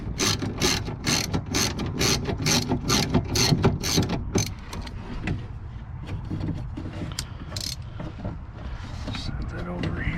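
A ratchet clicks in a fast, steady run of ratchet strokes while loosening a screw on a 2007 Chevrolet Impala door during window regulator work, then gives way to quieter handling noise with a voice talking.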